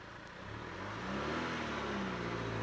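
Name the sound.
manual stick-shift car engine revving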